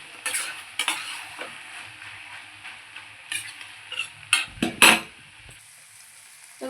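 Onion and poppy seed paste (kurdi posto) frying in oil, stirred with a spoon: scraping strokes and bursts of sizzle in a steady rhythm, close and fairly loud, no talk.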